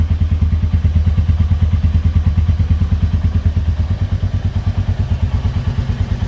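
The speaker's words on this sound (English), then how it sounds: "this is the exhaust note of the bike when stable" A Royal Enfield Meteor 350 motorcycle idles close by, its exhaust note a loud, steady, rapid thumping pulse that never changes pace.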